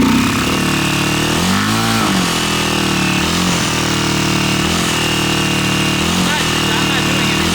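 A quad engine runs at a fixed throttle setting, a loud, continuous buzzing idle whose pitch surges and dips on its own every second or so, suggesting ignition trouble.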